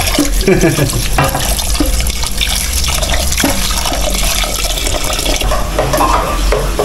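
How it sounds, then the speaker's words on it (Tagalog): Bitter vegetable rinsed under a running tap, a loud continuous gush of water with splashing and stirring, close up and constant throughout. "hugasan natin para lalong mawala pa yung pait, yung pagka-bitter"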